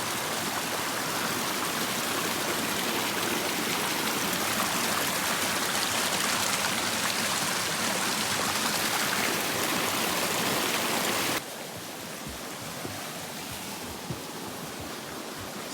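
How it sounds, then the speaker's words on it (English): Creek water rushing steadily beneath a small trail bridge on the Appalachian Trail, swollen after heavy water; a loud, continuous broadband roar that drops abruptly to a softer, nearer trickle and flow near the end, with no talking. "So this is a nice little bridge over the creek here."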